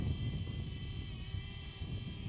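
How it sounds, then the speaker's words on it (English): A DJI Flip drone hovers and descends close by outdoors, its propellers giving a steady whirring buzz that runs unbroken for the whole stretch at an even level. "bring the drone down"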